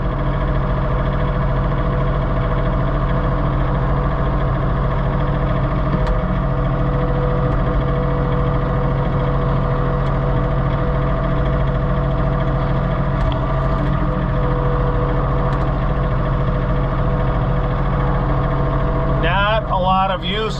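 A John Deere 3046R compact tractor runs steadily while snow blowing in Western New York, its engine drone continuous and close throughout, with no talk over it.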